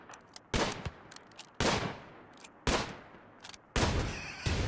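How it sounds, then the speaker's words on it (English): Gunfire from the RimWorld video game comes as four sharp, loud shots spaced about a second apart, each with a short decaying tail, with no talk over them. "Oh, whoa, was that one shot, one kill?"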